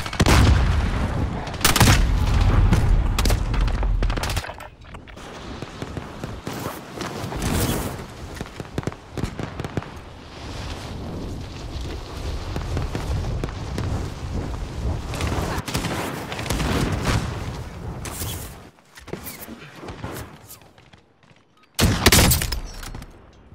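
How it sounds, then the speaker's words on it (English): Call of Duty: Modern Warfare gunfire erupts in loud, dense bursts of rapid shots with crashes and booms, pausing into quieter stretches before sharp volleys return near the end; a few shouted voices mix in. "Taking fire!"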